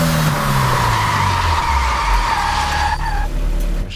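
Hard braking of a Toyota AE86 in a racing video game, with loud continuous tire squeal and skidding over a droning engine that winds down, all close and sustained throughout.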